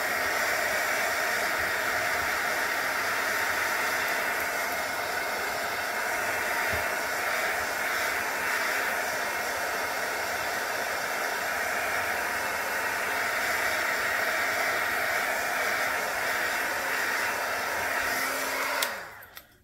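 Hair dryer drying paint on a mixed media journal page, a loud, steady airy roar held for about nineteen seconds before it switches off, no talking.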